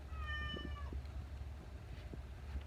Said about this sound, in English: That's our cat Ginger crying at the door